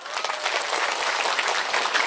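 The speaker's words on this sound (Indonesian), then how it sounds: "Tepuk tangan." An audience at a humorous Sundanese religious lecture breaks into loud, dense clapping, a close and continuous wash of applause with no voices over it.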